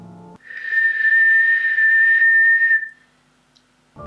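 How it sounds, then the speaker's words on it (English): A single sustained, steady whistle on one high pitch, eerie and clear, rising out of near-silence and held for over two seconds before fading, said to come from a ghost haunting an island. "there's something in the shadows whistling"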